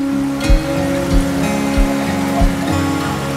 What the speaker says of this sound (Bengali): প্রচুর বৃষ্টি হচ্ছে